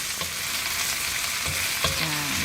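Black squid for a spicy dish stir-frying in freshly added oil, giving a dense, steady sizzle with a few soft scraping stirs across a short stretch, close and unbroken by speech.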